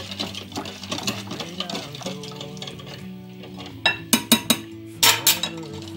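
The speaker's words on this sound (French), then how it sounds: "Vous mélangez." A whisk or spoon stirs crêpe batter mixed with vanilla sugar in a bowl, a steady scraping swirl that ends in a few sharp clinks against the rim.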